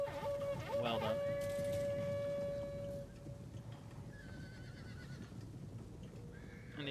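Mongol cavalry horses charge in a Total War medieval campaign battle, a whinny ringing out over a steady rumbling din of trampling hooves and battle noise, with a few crowing-like calls mixed in.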